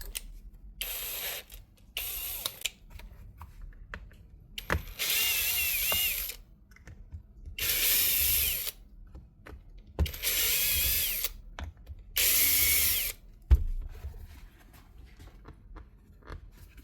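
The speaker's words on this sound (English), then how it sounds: "It'll fit in the drill, may as well put it in the drill." A power drill in a repair workshop whirs in short, loud bursts, about five separate runs each lasting one to two seconds, with quiet pauses and faint mechanical clicks between them.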